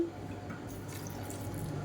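A little water poured into a spice mixture in a grinder jar before grinding, a faint, brief trickle and a few soft drips in a quiet kitchen.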